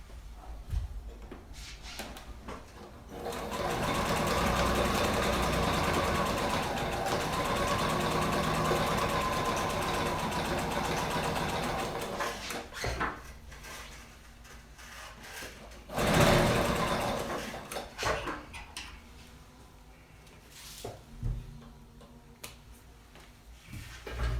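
A sewing machine stitches the lining of a Cottonwood pouch, whirring steadily for several seconds before winding down into brief, intermittent runs and handling clicks. The sound is moderately close and heard with no talking.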